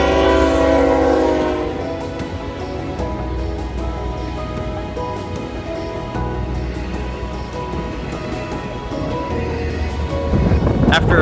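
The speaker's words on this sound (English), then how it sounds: "My next catch would be a lackluster northbound intermodal." A CN northbound intermodal freight train passes with a deep, steady rumble of wheels and cars, louder at the start and swelling again at the end, with a horn-like tone early and faint rattling throughout.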